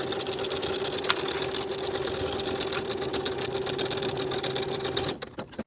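A sewing machine stitching the inner pocket seam of a lined coat, a fast steady mechanical whir with a constant hum, close-up, running evenly before stopping abruptly near the end.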